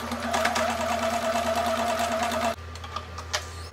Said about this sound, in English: you're going to sew along this entire top part.